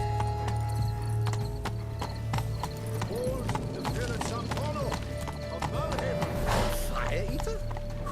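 A horse in The Witcher 3 gallops with rapid, rhythmic clip-clop hoofbeats throughout, with a brief whinny and in-game voices speaking over the hooves.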